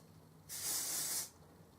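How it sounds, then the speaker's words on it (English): A single burst of hairspray, just under a second long, hisses close by over makeup covering a tattoo, starting and stopping abruptly in an otherwise quiet room. "you're going to put another bit of hairspray on"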